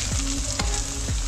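Garlic frying in a hot pan for veg manchurian makes a loud, dense sizzle at close range, with a few scraping stirs of a spatula cutting through the steady crackle.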